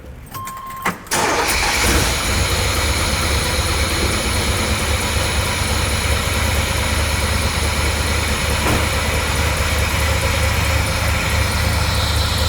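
A thumpy-sounding truck starts with a turn of the key, a short crank catching into a loud, steady idle that rumbles on alone until the end.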